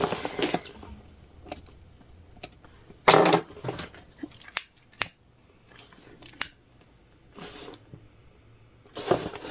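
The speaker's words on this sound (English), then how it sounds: "We're just trimming threads." Scissors snip loose threads on a sewn leopard-print tote bag: several sharp, crisp cuts spaced irregularly over quiet handling noise, close and fairly loud.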